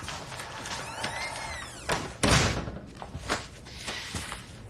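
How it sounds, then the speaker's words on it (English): A door being shut indoors in a TV drama, one loud thump standing out midway amid quieter shuffling and light knocks, with no voices. "Shut the door, sit down."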